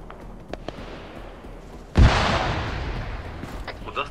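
A single heavy, booming report from a rifle in ArmA 3, in a city under siege, cracks out loud and close near the midpoint and trails off in a long rumbling echo, with faint scattered pops before it.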